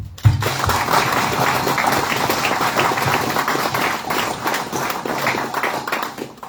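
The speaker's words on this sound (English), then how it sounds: "we should clap" An audience clapping at an old boys' gathering, dense applause from many hands that starts abruptly and holds strong for several seconds.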